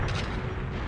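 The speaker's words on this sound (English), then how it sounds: "let me just blow these up with a grenade launcher" Grenade launcher blasts in the GoldenEye video game, a dense, loud, booming explosion rumble filling the short moment with no pause.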